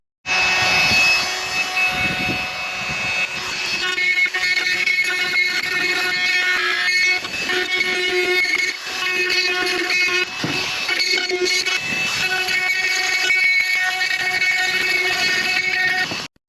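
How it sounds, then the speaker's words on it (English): A cordless die grinder with a carbide bit cutting into a fiberglass tank gives a loud, steady high-pitched whine with a slightly wavering tone, running continuously and close for the whole stretch. "this carbide bit, it's kind of like a carbide end mill almost inside of the cordless die grinder, is working pretty good"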